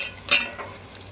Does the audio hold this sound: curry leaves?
yes